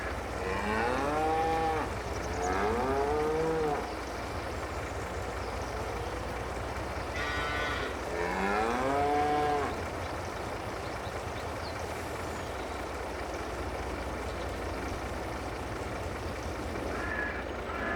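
Beef and dairy cattle in Farming Simulator 22 give several loud, drawn-out moos in the first half, some overlapping, over a steady low engine hum of farm machinery that carries on alone afterward.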